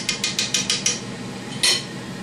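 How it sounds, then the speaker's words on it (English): A utensil stirs thick white gravy in a pan, a quick series of about five rhythmic scraping clinks followed by one more after a pause, close up. "Just keep stirring it like that."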